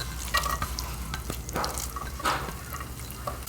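Onions frying in olive oil in a large skillet over medium heat, a steady close sizzle with soft stirring scrapes and a few light clicks of a utensil against the pan.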